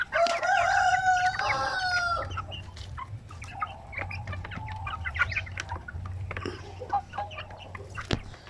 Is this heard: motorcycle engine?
no